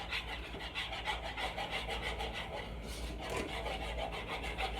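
A spatula scrapes chocolate cake batter from the edges of a bowl, a steady close rasping rub in repeated strokes, moderately loud, with no talking.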